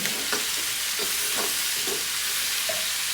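Pork kaldereta with garlic and onion being stirred in a hot pan, a dense continuous sizzle with several soft scraping strokes at a steady pace, close and without voices.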